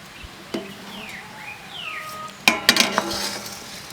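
A pot of boiled dumplings is lifted off the stove and shaken, giving a burst of metallic clinks and rattles after quieter kitchen noise and a few faint high chirps.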